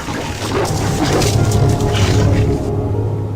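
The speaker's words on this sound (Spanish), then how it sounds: "Rugidos que parecieran ser de algo que nos acecha." In the foggy forest of the game Silent Hill 2, a monstrous creature lets out deep, rumbling roars and growls that rise and fall, loud and continuous against a dense, eerie background.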